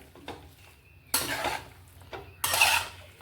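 Chicken is mixed with yogurt, spices, mint and coriander in a bowl, making two short bursts of scraping and clattering against the bowl with quiet pauses between them.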